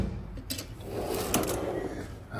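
Drawers of a Snap-on auto body toolbox slide and knock shut in a workshop, a couple of rattling metal runs and thuds over steady room noise, some drawers sticking as they close.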